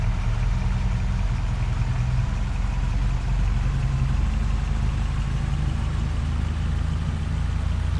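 A Ford F350 pickup truck's engine idles steadily in a farming simulation game, a constant low, even rumble with no speech over it.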